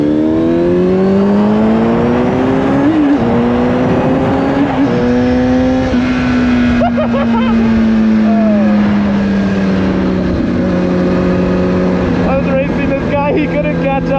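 A Kawasaki Ninja 636 motorcycle accelerates hard and close, its engine note climbing through several gear changes in a loud continuous run, with a voice talking over it.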